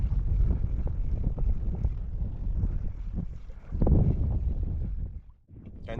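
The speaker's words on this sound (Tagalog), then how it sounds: "Nagpapandar na ng makina." A fishing boat's engine runs steadily at sea, a low continuous rumble with wind noise over it, dipping briefly near the end before resuming.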